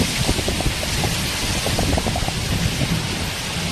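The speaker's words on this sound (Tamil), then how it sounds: "நல்ல மழை" A dense downpour pounds down in Chennai with a constant loud hiss and low rumbling thunder woven through, close and unbroken throughout.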